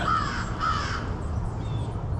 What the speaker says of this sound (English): That bird, for one.